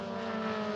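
A Dallara 320 Euroformula Open race car climbing a hill at Portimao, a sustained tonal engine drone held at high revs, fairly distant and steady for a brief moment.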